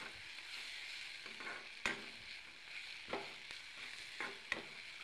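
Pointed gourd frying in hot oil with a steady soft sizzle, broken by a few faint clicks of stirring, close and quiet with no talking.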